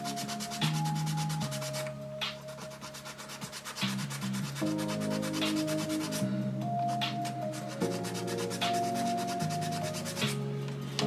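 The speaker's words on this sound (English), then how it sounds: "Like I usually hate sanding in the studio like this, but I'll do it for the stream." Hand sanding a piece in a studio, rhythmic back-and-forth rubbing strokes close up, alone and steady, with soft music tones running underneath.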